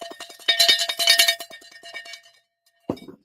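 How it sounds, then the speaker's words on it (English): Rapid bright metallic bell strikes ring out in a quick clattering burst for about two seconds, fading away, followed after a pause by one short thud. "I'll give you all the bells"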